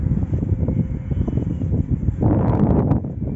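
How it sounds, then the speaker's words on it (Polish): Steady broadband whooshing rush of wind turbine rotor blades sweeping the air, swelling louder toward the end with a brief rise in hiss. "To, co słyszycie, ten szum, to jest ze samych śmigieł"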